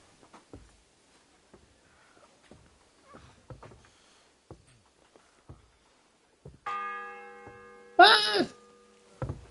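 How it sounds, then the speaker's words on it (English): A bell tolls once with a loud, ringing metallic strike that hums and decays, following quiet scattered knocks and shuffling. "The fourth bell."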